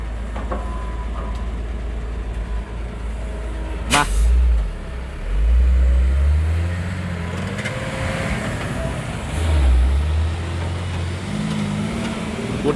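A Hino Victor 260 truck works in a dirt pit outdoors, its diesel engine rumbling low and surging several times as gears change, with a sharp clank partway through and steady mechanical noise throughout.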